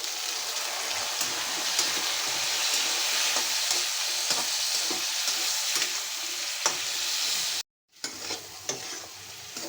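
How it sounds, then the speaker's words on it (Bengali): Onions, green chilies, turmeric and ginger frying in oil hiss and crackle in a steady, continuous sizzle, broken by a brief cut near the end. "আমার পেঁয়াজ মশলাটা ভাজা ভাজা হয়ে গেছে"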